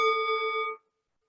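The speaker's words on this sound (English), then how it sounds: "just listen for the very end of the sound of the bell" A meditation bell rings with a clear, sustained metallic tone that holds steady and then fades quickly into silence.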